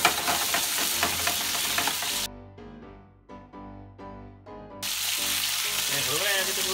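Chicken wings sizzle and spit in their own rendered fat, a dense broadband frying crackle that cuts out for a couple of seconds mid-clip before returning at full strength, close and loud with no talk over it.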